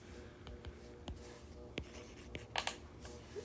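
A pen scratches across paper or a whiteboard while electrochemistry shorthand for an anode is written out, with short irregular strokes and taps over a quiet room hum.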